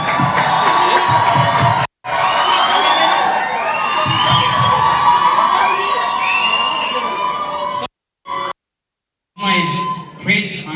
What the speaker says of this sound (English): Everybody, rounds of applause for Hannah, please.